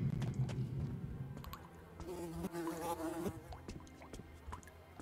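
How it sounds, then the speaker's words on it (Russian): Flies in the video game Metro: Last Light buzz close by in irregular passes, with clicks and soft clatter from the game scattered through the buzzing. "Мухи."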